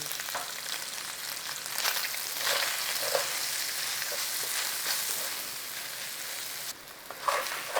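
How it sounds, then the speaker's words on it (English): Potatoes frying in butter and oil, a constant close sizzle with scraping stirs and spatter crackles throughout, with a brief pause in intensity near the end before stirring resumes. "we stir it in. Use that butter and oil that's in there, in all those potatoes"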